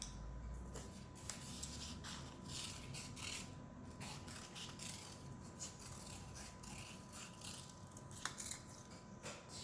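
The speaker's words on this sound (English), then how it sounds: "So I'd like you to cut 6 circles out." Scissors snipping steadily at a table, cutting six circles out of paper for a ladybug storytime craft; soft, close, continuous clipping and rustling with no talk.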